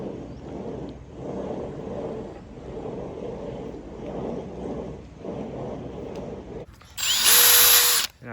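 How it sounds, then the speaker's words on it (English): Power drill boring holes into a boat mast, a repeated whirring drone in several bursts, then a louder, sharper high-pitched run near the end, with no voices. "I just drilled some holes in the mast"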